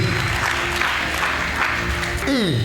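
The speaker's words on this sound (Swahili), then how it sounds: "Yesu makofi mazuri" A church congregation claps steadily together, a dense continuous wash of applause close around, with a voice rising briefly near the end.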